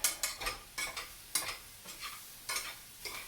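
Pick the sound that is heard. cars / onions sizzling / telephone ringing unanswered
onions sizzling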